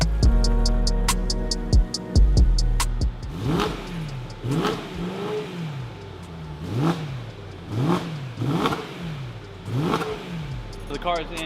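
A BMW E90 M3 engine revs repeatedly, starting with sharp blips, then rising and falling in rhythmic swells, loud and close with a low idle underneath.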